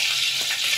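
Curry leaves dropped into about three ladles of hot oil for misal, a steady bright sizzle and crackle of frying, close and fairly loud, with no talking.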